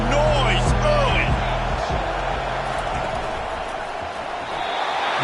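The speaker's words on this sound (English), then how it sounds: "This crowd bringing the energy and noise early." Football stadium crowd at a game against Oregon, a broad, dense roar of many voices and cheering that holds steady throughout, with some sharper bursts near the start.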